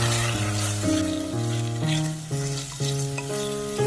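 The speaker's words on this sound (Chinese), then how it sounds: "再把洋葱加进来翻炒，炒出洋葱的香味" Onion stir-fried with pork slices and soybean paste gives a steady sizzle and scraping stir under a prominent stepping melody of background music.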